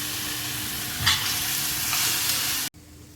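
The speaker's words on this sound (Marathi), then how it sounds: "कांदा चांगला लाल होईपर्यंत आपल्याला तो परतून घ्यायचा आहे." Onions frying in a pan for pav bhaji, a steady close sizzle with a brief stirring scrape, cutting off abruptly near the end.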